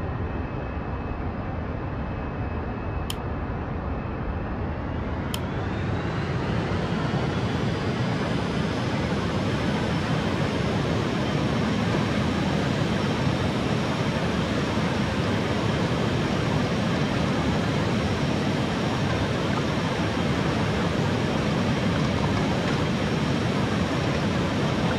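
A heavily loaded Boeing 737 Max 8 in a flight simulator game spools up for takeoff from Denver's runway 34 left, its steady jet engine roar swelling after a few seconds and then holding loud and continuous.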